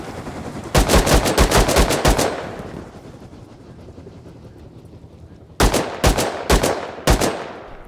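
Gunfire in the survival video game Rust comes as two bursts of rapid automatic shots, one early and one late, with a quieter stretch of background noise between them.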